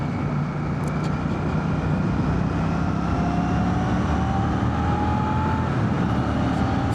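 A 2025 Royal Enfield Classic 650 motorcycle speeds up along a dual carriageway. Its engine hums steadily beneath loud wind and road roar, and a faint rising whine drifts through the middle.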